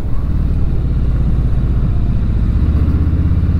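A 2019 Harley-Davidson Low Rider 107 rumbles loud and close while being ridden, its deep engine drone steady throughout with no talk over it.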